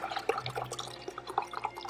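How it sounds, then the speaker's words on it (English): Batched Mai Tai cocktail is poured into a shaker, a continuous close splashing and trickling of liquid with scattered drips, heard alone without talk. "what we're gonna do is just pour that into a shaker."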